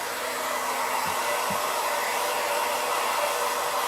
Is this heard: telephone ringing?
no